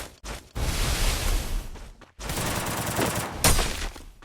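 Rapid gunfire from a shooting video game, two dense bursts of shots split by a brief silence, the second ending in a sharper crack.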